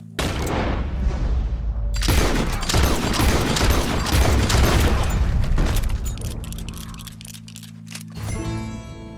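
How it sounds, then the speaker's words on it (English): Dense bursts of gunfire in Red Dead Redemption 2 crackle loudly and fill most of the stretch, then thin out into scattered sharp reports over a low drone. "He shot the thing!"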